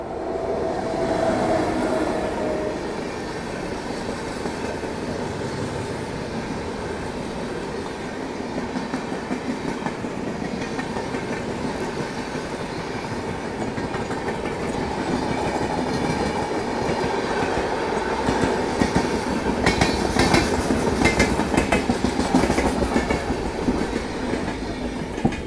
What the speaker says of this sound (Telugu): అందుకనే మన ట్రైన్ డిపార్ట్ అయింది.